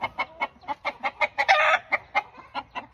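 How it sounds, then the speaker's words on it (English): A rooster clucks in a steady run of short, close, loud bops, about a dozen evenly spaced notes with a slightly louder, rougher call in the middle. "Now that's actually a rooster,"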